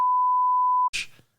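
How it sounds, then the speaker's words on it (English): A single steady tone of almost a second cuts in as a censor beep over speech, followed by a brief bit of breathy voice that fades out. "We'll have to beep that out."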